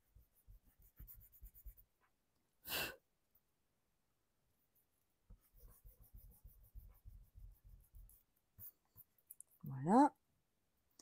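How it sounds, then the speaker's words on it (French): Pencil traces of a drawn circle rubbed away with an eraser: close, soft rhythmic scrubbing strokes in two separate runs, with a sharp brief noise between them and a short vocal sound near the end. "on va gommer les traces"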